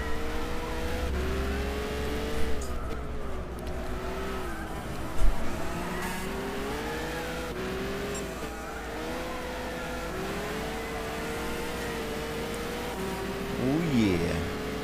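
Peugeot 908 race car in Gran Turismo 6 holds a steady high-pitched engine drone through the whole stretch, pitch rising and falling as it shifts and corners, with someone talking over it.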